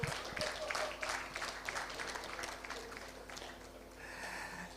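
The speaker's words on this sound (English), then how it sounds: "The WHO, a round of applause for them too." A round of applause at a regional health-financing conference, moderate clapping from the audience that tapers off after a few seconds.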